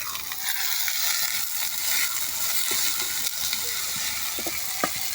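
Onions frying in oil in a pan, a steady close sizzle with a few faint clicks and stirs, no talking.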